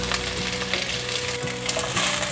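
Dried tofu sizzling and crackling in a hot stir-fry pan with vegan shredded mock meat, a steady loud frying hiss with small pops and stirring scrapes throughout.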